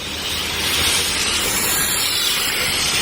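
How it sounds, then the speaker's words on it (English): Cleaner fizzing and bubbling over the dirty surface of a portable grill, a steady close hiss that holds level throughout with no talk. "it's fizzing out all the dirt"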